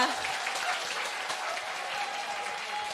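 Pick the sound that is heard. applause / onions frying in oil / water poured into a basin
applause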